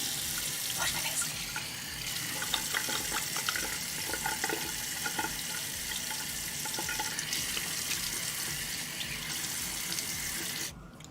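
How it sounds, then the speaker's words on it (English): Bathroom tap running steadily into a sink during face washing, an even close splashing flow with faint handling sounds, cut off abruptly at the end. "So I'm going to wash my face."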